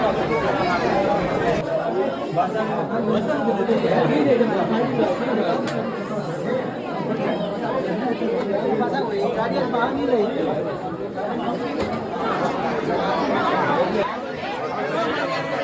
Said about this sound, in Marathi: आत्ताच एवढी गर्दी आहे